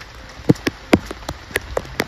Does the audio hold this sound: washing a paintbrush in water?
no